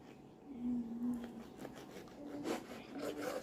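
Soft, rasping back-and-forth strokes of a knife sawing through bread, close and moderately quiet, with a faint murmur of voice in places.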